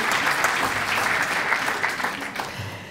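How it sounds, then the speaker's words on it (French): Loud, full applause from the audience at an organic products awards ceremony, a dense continuous wash of clapping that tapers slightly toward the end, with faint crowd voices underneath. "On les applaudit encore une fois."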